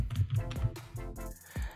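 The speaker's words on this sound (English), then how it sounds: "I'm typing creative." Quick keystrokes tap on a computer keyboard while a word is typed, a short close burst of uneven clicks separated by brief gaps.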